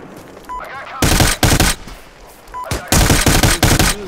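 Rifle fire from the shooter game America's Army: Proving Grounds comes in two loud, rapid bursts of automatic gunfire. A quieter stretch with faint background sound separates them.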